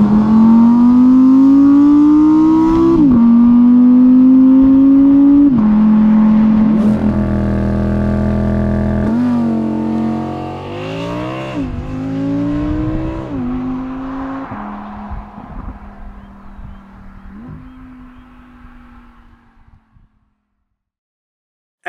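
A 5.2 litre V10 in an Audi R8 pulls hard through several gears, its pitch climbing then dropping at each shift, loud and close, then easing off and fading to silence near the end.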